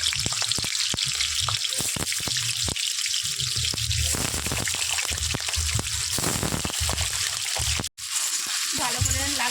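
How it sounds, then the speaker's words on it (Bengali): Potatoes fry in hot oil in a kadai, a dense, steady sizzle with scattered crackles and pops close by, briefly interrupted near the end. "আর আলুগুলো ভেজে নেবো।"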